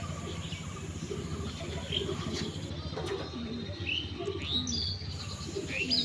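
A pair of black diamond pigeons in a cage give soft, faint coos and occasional chirps against a quiet background hum.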